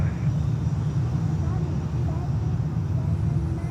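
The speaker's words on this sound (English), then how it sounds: "Southwest Airlines from Austin, Texas, coming in." A Southwest Airlines Boeing 737 MAX 8, two years old, arriving from Austin at Fort Lauderdale Hollywood airport, gives a steady low engine rumble and roar that holds evenly throughout at moderate loudness.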